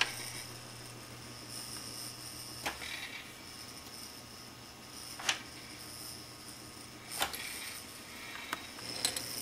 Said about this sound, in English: As you can see, the counter works.